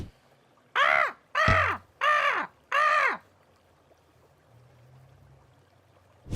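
Ravens give four loud, harsh caws in a quick, evenly spaced series, close and clear, followed by quiet with a faint low murmur of flowing water from a small brook.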